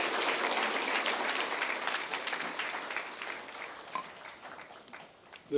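Party members at a Seoul city party town hall meeting applaud loudly to welcome the Seoul mayor to the stage, dense clapping that gradually thins and fades.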